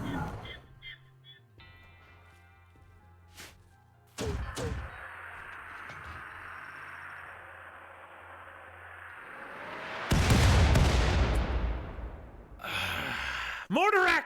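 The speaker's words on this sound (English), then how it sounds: "Mortar accuracy" Mortar fire in the RimWorld Biotech strategy game: several loud, broad booming bursts and rushing blasts over a low game hum, with a big hit around the middle and another near the end.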